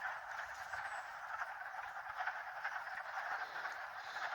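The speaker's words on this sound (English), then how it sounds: "I am standing next to a really good-sized frog pond, and there are hundreds and hundreds of frogs in front of me." A large chorus of hundreds of frogs croaking together in a good-sized pond, a dense, steady wall of overlapping calls that stays loud and continuous throughout, with no voices.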